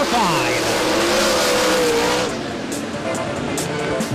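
A sprint car roars hard on a dirt race track during a heat race, its engine loud and rising, with a commentator talking over the noise.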